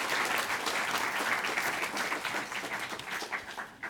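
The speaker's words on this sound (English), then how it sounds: "Give yourselves a big round of applause, please." An audience at a live awards ceremony bursts into sustained applause, dense clapping filling the whole stretch at steady loudness before thinning slightly toward the end.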